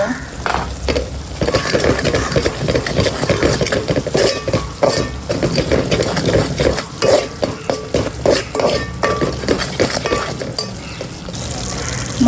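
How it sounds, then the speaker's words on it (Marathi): Spices for Malvani chicken being roasted in a pan, with a sizzling fry and repeated scrapes and clinks of a spoon stirring close by, no speech. "मसाले नीट भाजून घेऊया"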